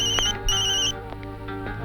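A telephone rings loudly and close by in a quiet indoor room, two bright electronic trill bursts followed by a fading tail, with no voices.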